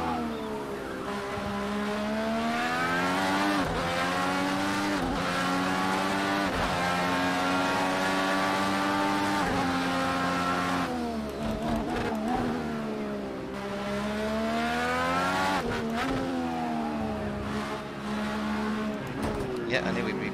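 Simulated IndyCar race engine at Long Beach in Project Cars 2, a loud, continuous high-pitched whine rising and falling through gear changes as the car accelerates and brakes, with a commentator talking over it throughout.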